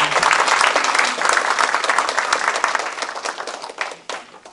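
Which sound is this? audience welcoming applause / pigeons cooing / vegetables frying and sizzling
audience welcoming applause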